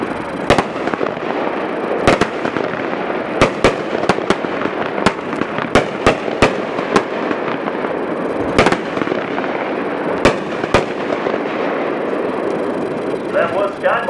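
A Sky Monster firework cake of 10 shots and 350 grams bursts in a series of sharp reports spread over several seconds, loud against a murmuring crowd and background rumble, with people talking throughout.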